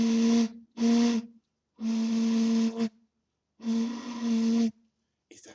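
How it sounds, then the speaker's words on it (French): A breathy, hollow hoot made by blowing across the mouth of a bottle, sounded in four separate blasts of varying length with short pauses between, fairly close, with a faint extra breath at the end. "à mettre la bouteille juste sous la lèvre et à souffler dedans"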